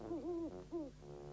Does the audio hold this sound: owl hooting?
yes